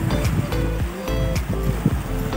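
Rushing sea waves and gusting wind buffet the microphone at Little Boracay, Kalamansig, a loud, continuous roar with rhythmic surges and no voices.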